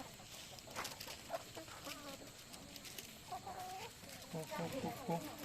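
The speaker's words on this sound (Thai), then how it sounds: "เก็บไข่จากน้องไก่ตุ๊กจุ๊นะครับ" Chickens cluck repeatedly at a farm where eggs are being gathered, their short, clipped calls coming close and fairly loud in uneven bursts over a low outdoor background.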